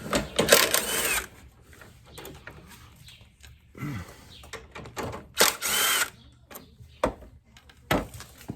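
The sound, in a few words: power tool undoing radiator bolts on a motorcycle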